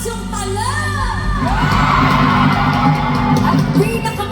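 A concert crowd at a live show in Las Vegas yells, whoops and cheers loudly and without a break, with a dense roar of many voices throughout.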